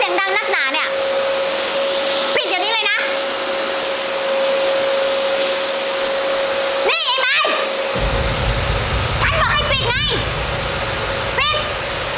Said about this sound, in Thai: เครื่องดูดฝุ่นน่ะ